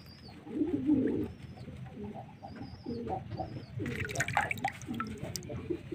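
Domestic pigeon cooing softly in a few low, throaty bursts, close by, with faint dripping water and a brief rustle partway through.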